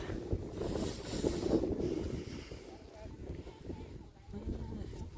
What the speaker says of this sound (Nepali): हामी चाहिँ यस्तो हावा चलिरहेको